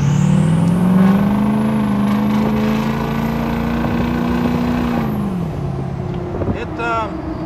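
A rebuilt 6.0 Powerstroke diesel truck pulls at about half throttle, its engine drone rising steadily and holding for several seconds before easing off, heard from inside the cab with a turbo whistle above it.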